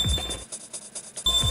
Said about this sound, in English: Speed word happens, hands on buzzers.